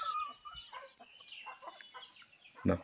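Native chickens kept as backyard poultry cluck softly in scattered short bursts, faint and close, with a louder squawk near the end.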